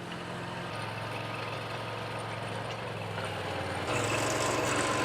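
A Struck MH4900 mini dozer with a 6-way blade runs steadily while grading dirt, its engine droning close and constant, a low mechanical hum that swells a little louder near the end.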